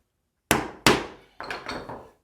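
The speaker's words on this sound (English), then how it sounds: "Pushing in and then taking the chisel and" A steel chisel is struck into wood while cutting out a pyramid-shaped border profile. Two sharp, close mallet strikes are followed by a cluster of quicker, lighter taps and cracks as the wood breaks away.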